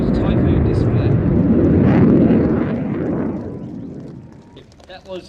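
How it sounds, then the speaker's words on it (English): A Royal Air Force Typhoon jet roars past at an air display, a loud, broad rumbling sweep that slowly fades into the distance over several seconds. "that was the 2021 Royal Air Force Typhoon display"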